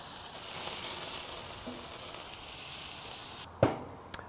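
Chicken wings sizzle on a grill as sauce is brushed over them, a steady close hiss that cuts off abruptly near the end, followed by a sharp knock and a fainter tap.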